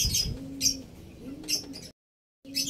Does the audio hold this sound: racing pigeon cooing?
yes